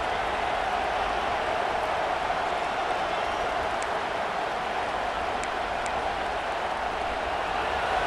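A dense, steady roar of a big stadium crowd in EA Sports College Football 26, constant and unbroken throughout, with no distinct voices standing out.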